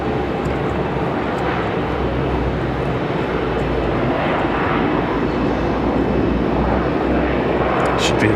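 American Airlines heavy jet with Rolls-Royce Trent 800 engines at Raleigh-Durham International, a loud, steady roar of engines spooling for takeoff, filling the whole clip with broad rumbling noise and no talk.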